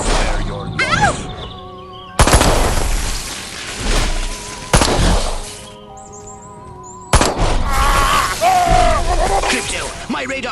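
Gunfire in Destroy All Humans!, several heavy booming shots and impacts in separate bursts, loud and close, with game voices in between.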